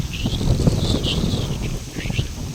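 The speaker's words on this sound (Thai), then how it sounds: "ลมแรงมาก" Strong wind sweeps through a durian orchard, a steady broadband rush and low rumbling buffet on the microphone with slight rises and falls, running continuously throughout.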